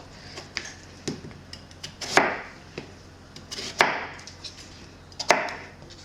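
A knife chops ingredients into roughly one-inch chunks on a cutting board while Vietnamese pho is being made: sparse, sharp knocks spaced unevenly, with three louder chops standing out over a quiet background.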